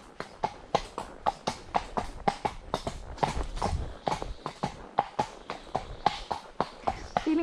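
Hooves of a ridden dressage schoolmaster horse clip-clop in a steady, even walking rhythm, crisp and close, each footfall distinct, with quiet low rumbling between steps and no talk.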